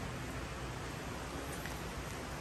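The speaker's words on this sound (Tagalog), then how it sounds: "Ulan na." Steady rain falling on a roof during roof renovation work, a constant soft hiss that is fairly quiet and even throughout, with no talk.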